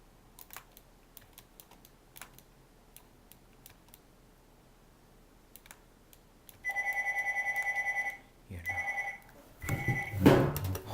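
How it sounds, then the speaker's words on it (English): A telephone rings in a quiet room, several steady electronic bursts in a row, loud and close, after a stretch of faint keyboard typing and clicks. "That's a phone."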